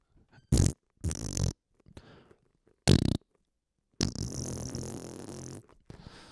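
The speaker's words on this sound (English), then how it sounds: "I wish more things had fart sounds." Several short, loud fart sound effects burst out alone in quick succession, followed by a longer, sustained raspy fart blast that trails off near the end.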